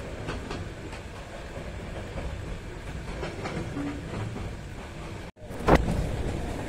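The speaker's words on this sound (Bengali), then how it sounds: "ট্রেন তার নিজ গতিতে ছুটছে" A moving passenger train on the Dhaka to Cox's Bazar route rumbles steadily with faint rhythmic clacking of wheels on rails, loud and close, ending in a brief sharp cut and rattle.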